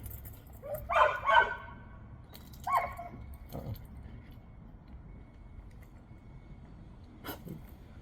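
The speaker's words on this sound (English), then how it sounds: "you're going to get barking from time to time" A dog barks a few times in short bursts, then a lone sharper bark later, fairly close against a quiet background hum.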